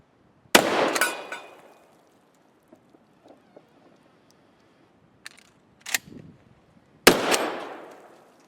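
Shotgun blasts ring out during a breech-load reloading drill: three loud, sharp shots spaced several seconds apart, each trailing off in a reverberant tail, with quiet clicks and handling noises between them.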